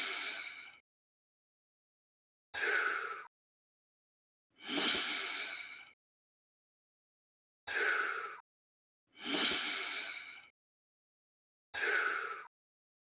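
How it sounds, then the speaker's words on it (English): Exaggerated, loud breaths during a set of squats: six separate heavy exhales or inhales, each about a second long, spaced by short silences, close and clear with no talking. "I'm exaggerating it and breathing quite loud"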